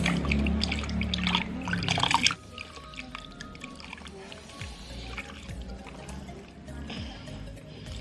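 Water pours and splashes loudly for about two seconds while face wash is rinsed off, then drops to a quieter trickle and faint dripping for the rest.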